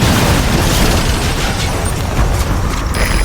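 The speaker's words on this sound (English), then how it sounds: "did you see that explosion?" An explosion rumbles in the Metal Gear Solid 5 video game, a dense, loud, continuous roar of blast and debris with heavy low-end that stays sustained across the whole stretch.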